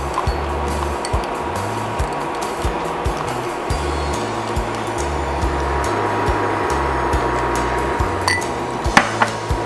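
Cornstarch sauce for sweet and sour pork being stirred in a pan, with steady bubbling and clinking of a utensil against the cookware throughout, a few sharper knocks near the end.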